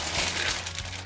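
A Tesco plastic bag crinkles and crumples as it is handled up close, a short, busy rustle with no talking.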